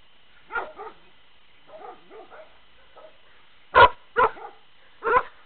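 A dog barks nearby in short bursts: a few softer barks, then three sharp, louder barks in quick succession, with quiet gaps between.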